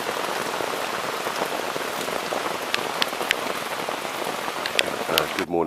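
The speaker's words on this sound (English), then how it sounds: "Very rainy night last night" Heavy rain falls through the night, a dense continuous hiss of drops striking surfaces with scattered louder individual taps, steady and close, and a brief rustle near the very end.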